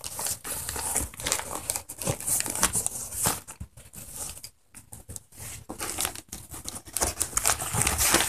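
A fabric Captain America shield pencil case being folded up, giving continuous rustling and crinkling handling noise with soft flaps and a short pause midway, close and fairly loud.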